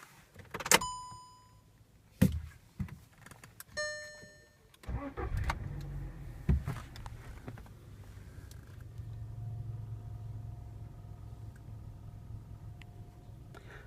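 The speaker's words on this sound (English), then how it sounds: "Let's start the car" Car ignition sequence: a few chimes and clicks, then the engine cranks and catches, settling into a low steady idle hum.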